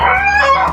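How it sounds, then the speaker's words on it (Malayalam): A native country rooster clucks and calls up close, a short burst of rough, throaty crowing-like notes filling the whole moment with no talk. "നാടൻ കോഴിയാണ്, പൂവൻ കോഴി അല്ലേ"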